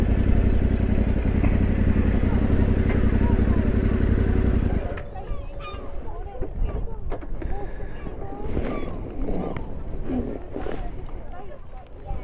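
A Yamaha T7 motorcycle rides along with a loud, close engine drone and wind buffeting, then slows and stops to park, leaving quieter outdoor ambience with people talking nearby.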